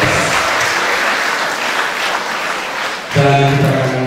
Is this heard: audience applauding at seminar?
yes